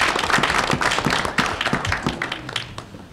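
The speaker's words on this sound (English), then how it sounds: "I think they deserve an applause." Members of the audience at a CUNY Board of Trustees meeting applaud, with sharp individual claps standing out over a scattered round of clapping that thins and fades toward the end.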